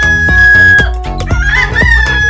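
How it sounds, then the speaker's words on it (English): A rooster crows loudly and close, a drawn-out cock-a-doodle-doo with clucking, alone over a steady musical backing. "Rooster."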